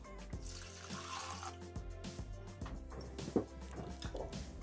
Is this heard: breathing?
no